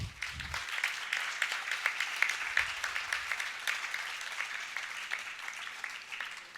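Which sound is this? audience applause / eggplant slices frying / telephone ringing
audience applause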